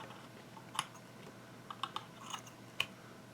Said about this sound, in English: I'm going to cut some of this top wick off